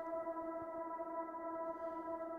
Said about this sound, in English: So it's just going to hold that reverb.